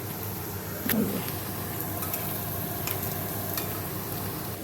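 Fish frying in oil at home, a quiet continuous sizzle with a brief bubbling burst early on and faint clicks, no speech.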